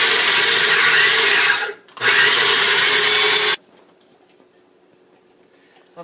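Celery, onions and pepper are chopped finely in two loud, continuous whirring bursts with a short pause between them, then the sound stops and only faint room noise remains.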